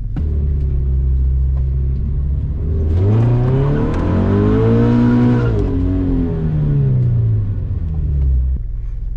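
Subaru BRZ accelerating on a wet race track, engine revs rising and falling through gear changes as it passes close and loud, then settling back to a steady rumble.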